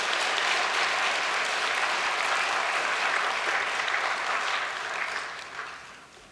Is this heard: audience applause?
yes